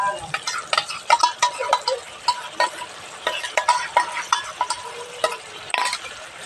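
Chicken curry with whisked yogurt being stirred in a pot, a spoon scraping and clacking against the metal in uneven strokes over a soft, wet simmer, fairly close and alone without talk.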